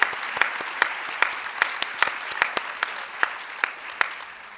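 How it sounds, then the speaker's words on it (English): An audience at a skills summit applauds a panel with a dense, loud wash of clapping, individual sharp claps standing out throughout, filling the hall without pause. "let's give a round of applause for this amazing panel"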